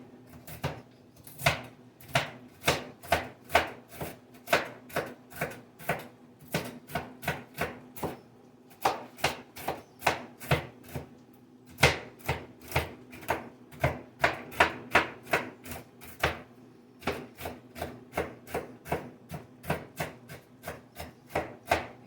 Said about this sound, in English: So I'm going to chop these up a little bit more.